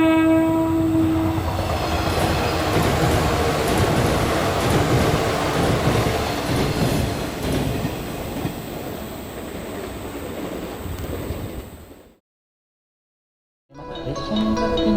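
A train in the Minecraft RealTrainMod game rolls past with loud, continuous rumbling and rail clatter, a horn tone sounding near the start, before cutting to silence and then resuming briefly.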